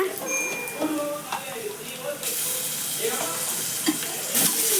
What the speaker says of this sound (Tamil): வெங்காயத்தை ஒரு த்ரீ மினிட்ஸ்க்கு மேலே வதக்கிக்கோங்க